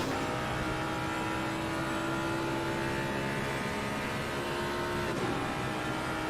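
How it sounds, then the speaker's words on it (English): Race car engine in the sim racing game Assetto Corsa Competizione during an endurance race at Spa, a steady loud onboard drone with sustained tonal engine whine held throughout, no talking. "Let's just go on board and just listen to the sound of the engine."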